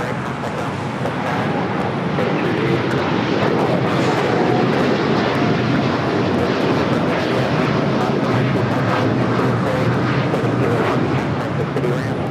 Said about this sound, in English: That was Japan Airlines Flight 61 taking off to Tokyo Narita while the 787-9 Dreamliner in the One World livery